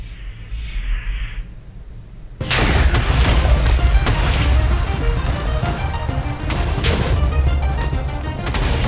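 An escape pod launching in a Minecraft space map: near silence, then a sudden loud boom that rolls into a sustained, heavy rumble with scattered crashes, heard alone.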